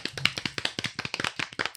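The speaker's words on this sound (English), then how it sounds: "Clap it up, clap it up." Hand clapping at the opening of a casual talk-show episode: a steady run of sharp, close claps, roughly a dozen in under two seconds, alone with no talk over them.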